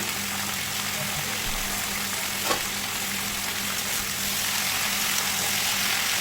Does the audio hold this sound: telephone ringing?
no